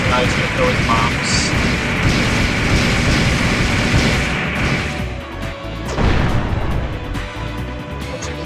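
An enemy boss hurls bombs in The Legend of Dragoon, loud crashing bursts and pops piling up in a dense, chaotic stretch, easing briefly before another hit, while someone talks over it.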